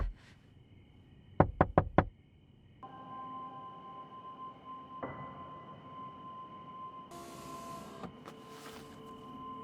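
Four quick, sharp knocks rap on a car window in the dark, followed by a low steady hum and faint rustling.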